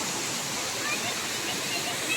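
Waterfall at Khopoli in a forest setting, a steady broadband rush of falling water that stays continuous and fairly even for the whole stretch, with no distinct voices standing out.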